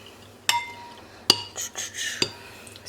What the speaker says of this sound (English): the chocolate chips have been pretty melted, so it does say to stir. So I'm going to stir that up.